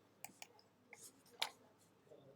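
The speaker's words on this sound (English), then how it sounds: "If I start clicking now." A computer mouse clicks during editing in Adobe Premiere: several sharp, quiet clicks spaced irregularly over a couple of seconds in an otherwise still room.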